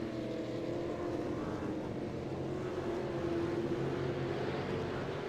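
V8 race car engines drone steadily at the Belle Isle Sprints, a continuous distant roar that rises slightly in pitch as the cars hold throttle.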